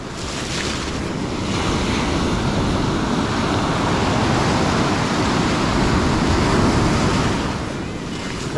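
Sea surf breaks and washes in a steady roar on a fishing beach with rough water and foamy waves, close and loud, with wind buffeting the microphone and no talk.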